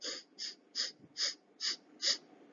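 A voice imitates sniffing: six short, breathy nasal sniffs in an even rhythm, close and fairly quiet, with no talking.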